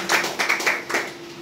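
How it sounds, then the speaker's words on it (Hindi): Sparse clapping from an audience at a motivational talk, a handful of separate hand claps in an uneven rhythm over a faint steady room tone. "एक बार ताली बजा लीजिए अपने।"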